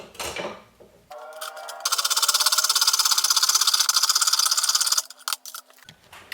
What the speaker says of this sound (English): let me saw that out